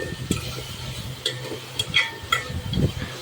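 Tomatoes, green chillies, mint and coriander frying in a pan for veg pulao, with a soft sizzle under quiet scraping and stirring taps from a spoon, close and moderately loud.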